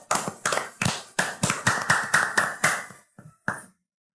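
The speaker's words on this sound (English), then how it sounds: "We gotta give him a round of applause." A few people clap in a loose, uneven burst of sharp hand claps, close and fairly loud, tapering into scattered final claps.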